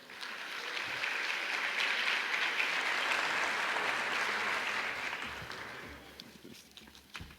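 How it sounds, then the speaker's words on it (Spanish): Audience applauding economist Gunter Pauli at a blue-economy talk, a steady wash of clapping that swells, holds for several seconds, then tapers off, with a few stray sounds at the end. "un fuerte aplauso para Gunther Pauli"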